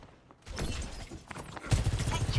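Rapid gunfire from the video game Apex Legends rattles in bursts over game sound effects, with a louder, denser volley toward the end, under some voice chat.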